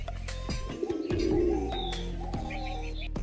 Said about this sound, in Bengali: চলো বেশি লেট না করে এবার সব কটা কবুতরকে খেতে দিয়ে দিই।